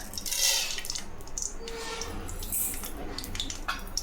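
Chana dal dropped into hot oil over a low flame for Kumbakonam-style tomato chutney, giving a close, steady crackling sizzle with bursts of sharp pops throughout.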